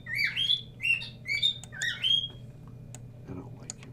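A pet bird squawks and chirps loudly up close in a quick cluster of shrill calls that fades after a couple of seconds, leaving a low hum and a few faint clicks.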